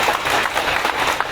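An audience at the inauguration of a mobile medical unit claps in a dense, loud burst of applause that fills the whole moment.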